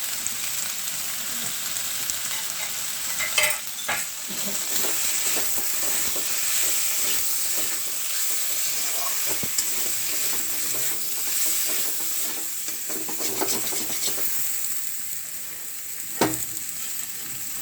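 Ground spices such as chilli, turmeric, cumin and coriander powder sizzle and fry in a hot pan while being stirred steadily, with occasional scraping knocks of the spoon against the pan over a continuous hiss.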